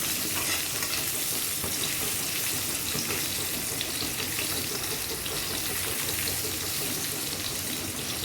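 Potatoes frying in a pan for a home dinner give a steady, dense sizzle with faint stirring scrapes, close and continuous, with no talking.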